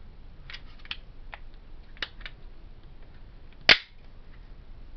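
A Smith & Wesson M&P .40 pistol under function test: a few soft mechanical clicks, then one sharp, close metallic snap of the slide being racked, with quiet room tone between.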